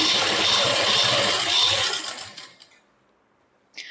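Sewing machine stitching two layers of suit fabric, a steady continuous whirr for about two seconds that fades out, with a short clatter near the end.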